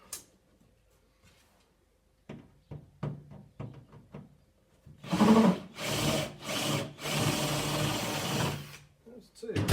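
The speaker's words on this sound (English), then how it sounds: "The way to get pop rivets out is to drill them out." A power drill whirs in several short bursts, grinding through metal pop rivets up close on a Land Rover Series, after quieter scraping and handling noises and some speech.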